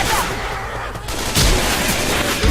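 Gunfire in the video game Left 4 Dead 2, with dense, rattling automatic bursts that run almost nonstop and grow louder in the second half, close and forceful.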